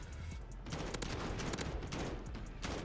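Rapid, dense gunfire from the Modern Warfare video game crackles loudly and almost continuously, a close, sustained burst of automatic shots with no pause across the clip.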